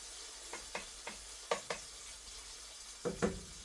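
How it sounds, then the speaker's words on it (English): Bacon frying in a pan gives a faint, steady sizzle, broken by quiet clicks and scrapes as it is stirred in short irregular bursts, heard close up with no talking. "let me stir our bacon right quick"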